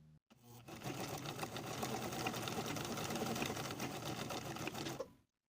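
A sewing machine stitches a basting line down a welt piece for a lined women's coat. It runs loud and close in one steady whirring burst of about five seconds, then stops abruptly.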